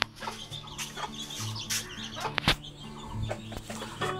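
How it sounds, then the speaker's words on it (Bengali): Farm chickens just let out to feed cluck and squawk close by, a busy run of short overlapping calls with a few sharp louder cries and scattered pecking noises. "আমাদের মুরগিগুলোকে ছাড়ি দেওয়ার সাথে সাথেই আগে খাওয়া দাওয়া শুরু করে দেয়"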